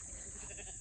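A sheep bleats on a hay farm, one brief wavering call at moderate distance with faint outdoor background.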